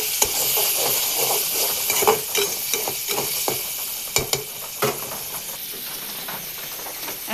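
Shrimp frying in a pan with onion, turmeric and cumin paste plus salt, a steady close hiss and sizzle with repeated scraping stirs and clicks of the utensil throughout, no talking.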